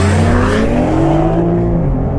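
A 2021 Toyota Supra with the six-cylinder engine pulls hard in a drag race, its loud, steady drone climbing smoothly in pitch from inside the cabin for the whole stretch, with no talking.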